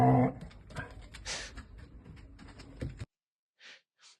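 A dog at play lets out a few short, close vocal bursts mixed with snorts and scuffling. After that comes a pause and two brief faint sounds.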